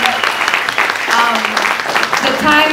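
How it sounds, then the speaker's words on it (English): An audience applauds a young girl's song at a United Nations International Peace Day event, a close, busy clapping with voices talking over it throughout. "Just a big round of applause for this song."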